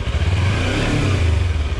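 An ADV motorcycle engine on an ATV trail, a loud low rumbling drone with throttle pulsing up and down steadily, close and continuous without speech.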